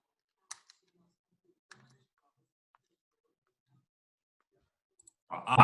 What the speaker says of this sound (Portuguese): Aí você vai pressionar Ctrl, deixar pressionado e depois apertar o Enter